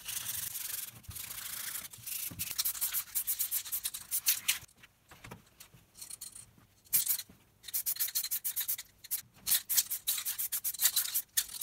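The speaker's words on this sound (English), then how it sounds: "Sanded down holder surface and sprayed in black." Sandpaper rubs back and forth over the surface of a holder for a DIY illuminated solar house number, a close, raspy scratching in uneven bursts with short pauses.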